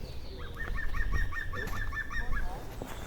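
A green woodpecker gives a rapid, ringing series of laughing notes at a moderate distance during a dawn chorus walk, the even repeated call running for a couple of seconds over low background rumble.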